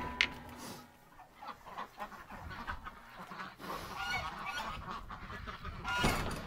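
Ducks quack and honk close by in a farmyard pen, a burst of overlapping nasal calls with rustling and movement around a gate.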